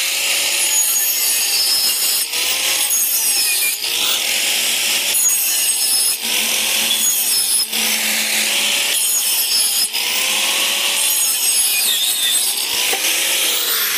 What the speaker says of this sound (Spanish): Entonces vamos a cortar estas cañas de 90 con la máquina.